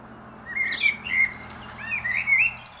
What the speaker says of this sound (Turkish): Şu yalnız kuşu da ben duymanızı istiyorum.